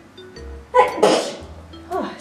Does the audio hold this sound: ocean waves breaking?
no